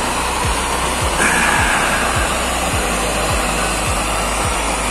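An oil burner's blower runs with a steady, loud broadband roar throughout, with a faint regular low thump repeating about twice per second beneath it.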